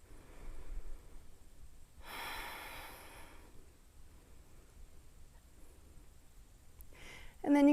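One audible airy breath during a yoga high lunge, a soft exhale-like rush in the middle of a quiet stretch, followed by faint room hiss and a short louder sound at the end.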